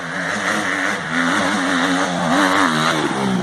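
A trail motorcycle accelerating on a dirt trail, its engine revving loud and close with a wavering, rising and falling pitch.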